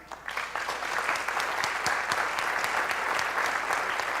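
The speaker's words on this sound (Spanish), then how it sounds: "Un fuerte aplauso" Audience applause at a literary awards ceremony for Valle del Cauca authors, a dense, steady wash of many hands clapping that swells in quickly and holds loud throughout.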